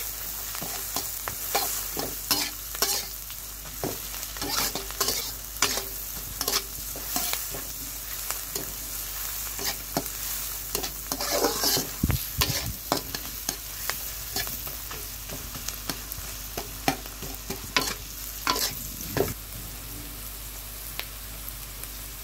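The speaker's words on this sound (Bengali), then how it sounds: "এবার ভালো করে ভেজে নিচ্ছি" Sliced onions, green chilies and garlic paste frying in a pan for an egg curry, with a steady close sizzle and repeated scraping stirs throughout.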